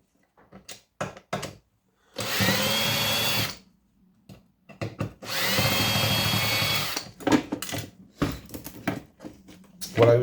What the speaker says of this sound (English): I was undoing all the screws away from the aluminium plate to release this